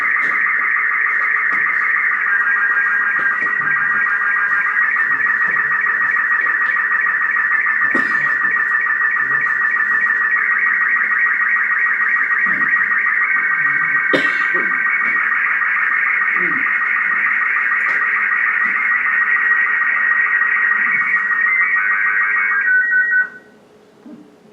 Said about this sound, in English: See the little horizontal line that's coming down through the picture? That's what's being transmitted at that time, so you can listen to the tones change.